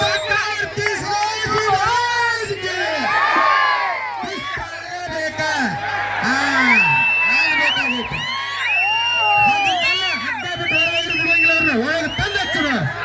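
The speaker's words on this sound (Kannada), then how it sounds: "ಅವ್ರಿಗೆ ಜೋರಾಗಿ ಚಪ್ಪಾಳೆ" Spectators at an outdoor kusti wrestling match in Arabhavi roar and cheer loudly and continuously, with whoops and shouts rising over a dense crowd, while an announcer's amplified voice carries through.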